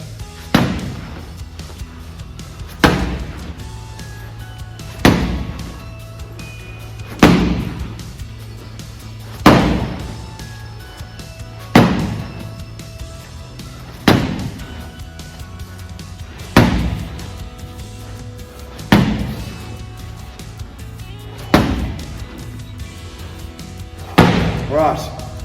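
A 14 kilo bag is slammed down hard during back slams in a boxing class, giving about eleven heavy, evenly spaced thuds roughly every two seconds. The slams are loud and close, with a steady background hum between them.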